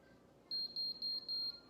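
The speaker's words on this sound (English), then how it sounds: "there's the 4 beeps" A Steamer Curl automatic steam hair curler beeps four times in a steady rhythm, each beep a short, clear, high electronic tone. A faint hiss sits underneath and nobody talks.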